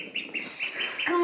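Young ducklings peep in quick, high, repeated chirps close by while being dried on a towel, a small cluster of calls overlapping with no talk.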